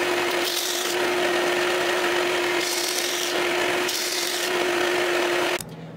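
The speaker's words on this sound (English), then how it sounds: "I'm going to sand a teeny little bit off each of these." Laser-cut clock parts being sanded with a steady powered rubbing hiss and a constant whine, rising in several swells before cutting off near the end.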